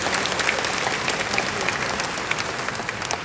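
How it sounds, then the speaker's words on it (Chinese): Steady applause from an audience at a Taiwanese dental association campaign rally, a dense, continuous patter of many hands clapping evenly throughout, with no voices over it. "所以我们给我们自己掌声鼓励一下。"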